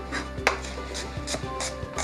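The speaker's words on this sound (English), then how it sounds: "I'm going to take some of our rump steak and slice it really thinly" A sharp knife slicing rump steak thinly on a board, quiet close strokes with one crisp tap and soft repeated cuts under a steady background hum, no voices.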